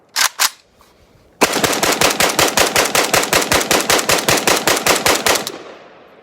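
PSAK-47 rifle firing a fast full-auto burst of about twenty-five sharp, evenly spaced shots, loud and close, preceded by two quick single reports and a brief pause, then fading into echo.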